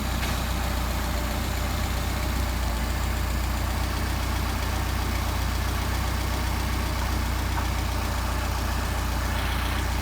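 A Mercedes 190SL engine fitted with Solex 44PHH carburetors idles steadily at about 750 rpm, a constant close, even rumble with no change in pitch.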